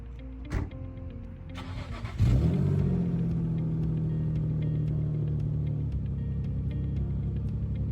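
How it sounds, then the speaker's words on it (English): A 2003 Nissan 350Z cranks and fires up nearby, a brief starter whir followed by a loud catch and rev flare that settles into a steady, rumbling idle. "my new to me 2003 Nissan 350Z"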